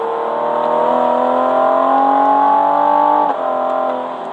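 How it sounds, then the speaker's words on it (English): A car in track mode downshifts under braking with paddle shifters, its engine drone sliding steadily in pitch, then a quick blip and a shift near the end, loud and close with no talk. "downshift under braking,"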